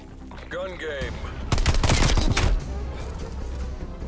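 Pistol gunfire in a video game: a loud cluster of rapid, sharp shots in the middle, with quieter game sounds before and after.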